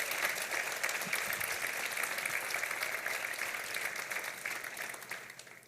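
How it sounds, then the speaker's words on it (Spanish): A church congregation at a Sunday service claps together, a steady wash of applause that stays even and moderately distant throughout, with no speech over it. "Dele el aplauso al Señor, si se lo va a dar bien fuerte."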